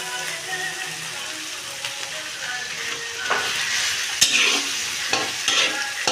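Chopped tomatoes and mung dal sauté in a pan with a steady close sizzle, broken by scraping stirs that grow busier toward the end, with an occasional sharp clink of the spoon.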